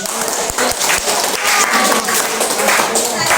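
Classroom students break into applause during a lesson's closing summary, a dense burst of clapping that fills the short moment with a few sharper claps standing out near the start.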